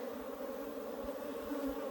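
Honeybees from a hive built inside a water meter box drone in a continuous close buzz that stays low and even throughout, with no talking.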